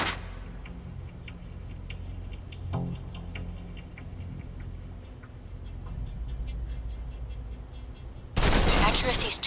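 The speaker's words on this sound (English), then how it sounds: "Still using cover, take some shots at the target." Gunfire from cover in the video game Alpha Protocol: a run of repeated ticking shots sits under a steady low game rumble, with a loud burst of noise at the very end.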